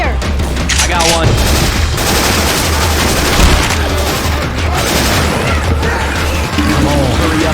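Video game gunfire in Left 4 Dead 2 using Syphon Filter weapon sounds, dense continuous rapid shots and booms filling the whole stretch, loud and close, with players talking underneath.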